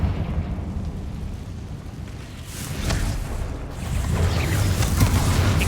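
Bombarda and Confringo spells exploding in Hogwarts Legacy, a rumbling run of booms and bursts that swells louder in two waves, each blast rolling into the next over a low, churning roar.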